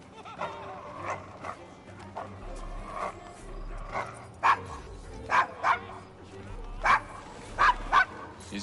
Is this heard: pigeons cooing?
no